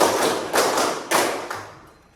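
Students clap together in a counted rhythm, with a few sharp group claps in quick succession, close and loud, then trailing off.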